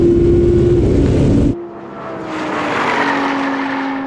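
Audi R8 and Porsche Cayenne GT accelerating hard side by side in a rolling race from 50 mph, loud engine roar with a rising tone, dropping briefly at a gear change before building again.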